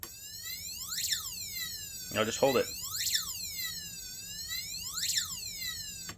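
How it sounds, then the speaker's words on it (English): A thin electronic police-siren tone from a passive buzzer driven by an Arduino sweeps up and down in a steady repeating wail, with a person speaking briefly partway through. "Now I got a little clean sounding police siren"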